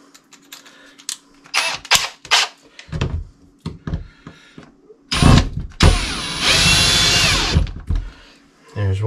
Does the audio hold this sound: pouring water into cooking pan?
no